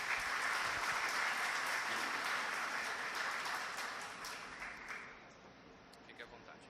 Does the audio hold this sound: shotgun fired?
no